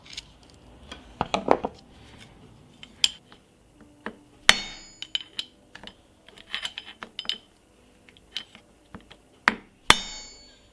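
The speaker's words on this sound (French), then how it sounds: "On prend un tournevis, on prend un marteau et on vient taper sur le bord" Sharp metallic taps of a hammer striking a screwdriver against a metal edge during KTM/Beta motorcycle clutch reassembly, irregular and close, some in quick clusters and others spaced apart, ringing briefly with no talking.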